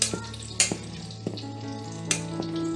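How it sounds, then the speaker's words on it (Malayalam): Tomato rice being stirred in an open rice cooker, with a few sharp scraping clacks of the spoon over a steady low hum and faint sizzling. "നന്നായിട്ടൊന്ന് റൈസ് മിക്സ് ചെയ്ത് കൊടുക്കാം."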